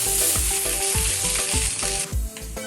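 Poha with fresh coriander is mixed in a hot pan, with a loud steady sizzle and a regular rhythm of spatula scrapes against the metal, close up with no voices.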